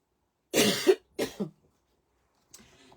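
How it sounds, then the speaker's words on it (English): Two close, dry, tickly coughs from a lingering cough in quick succession, followed after a short pause by a softer throat-clearing rasp. "a tickly cough that's been hanging around for what feels like years"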